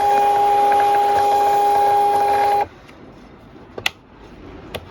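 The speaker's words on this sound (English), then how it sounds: "I use a thermal printer to print off address labels." A small thermal label printer whirs with a steady electronic hum for a few seconds, then stops, followed by a couple of faint clicks.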